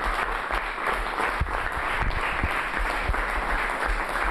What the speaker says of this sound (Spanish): Y un aplauso pido para los tigrenses.